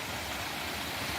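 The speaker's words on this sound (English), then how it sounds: "that's a natural waterfall you can hear down there" A natural waterfall down in a valley, heard from above, gives a constant, even rushing roar that is faint and distant, with no voices over it.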